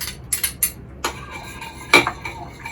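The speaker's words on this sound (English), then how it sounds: "I chop them really small" A knife chops small Thai fish eye chili peppers on a board aboard a boat, giving a handful of sharp, irregular taps close by with short quiet gaps between them.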